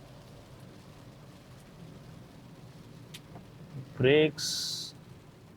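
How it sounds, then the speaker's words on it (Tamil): Heavy rain falls on a 2024 Tata Altroz CNG hatchback driving through the hills, a steady soft patter and road hiss throughout, as someone speaks briefly near the end. "ரொம்ப நாளுக்கு அப்புறம் ஒரு டிரைவ் ரிவ்யூவில் நமக்கு நல்ல மழை"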